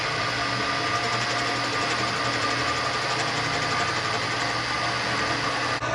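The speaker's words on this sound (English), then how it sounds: "To cut this inner radius on this bracket, I'll use my Bridgeport machine" A Bridgeport milling machine spins a fly cutter through an aluminum bracket, giving a loud, continuous mechanical whir with a rhythmic chatter that holds steady throughout.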